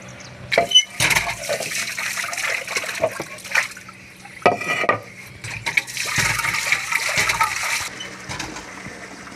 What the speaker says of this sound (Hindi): पानी भर लिया है और कनाली अपनी धो ली है